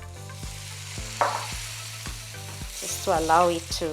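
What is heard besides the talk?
stock added to cooking pan, sizzling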